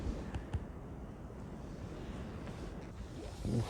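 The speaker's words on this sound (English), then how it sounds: "Bloody wind." Steady low rumbling wind buffets the open air at a countryside fishing spot for roach, bream and carp, blowing continuously across a microphone with a couple of brief gusty thumps.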